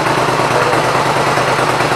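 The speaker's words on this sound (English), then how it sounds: "the bike runs really good" A 1996 Suzuki VZ1400 Intruder motorcycle engine running at idle, a loud, steady close rumble with an even pulsing throb and no talking.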